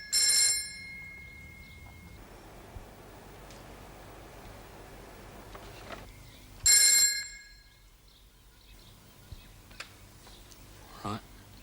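An old-fashioned telephone bell rings in two short loud bursts several seconds apart inside a quiet room, with faint background hiss and small clicks between rings.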